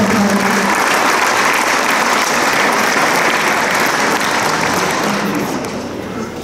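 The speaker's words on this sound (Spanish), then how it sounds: "Un aplauso, por favor." Loud, sustained applause from a crowd honoring the teacher who directs a humble rural school in Mexico at an official ceremony, a continuous dense roar of clapping that eases slightly near the end.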